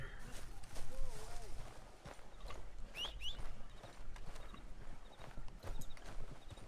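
Hooves of a horse clip-clop in a video game on a cool night, a steady walking beat running under a player's talk and game ambience.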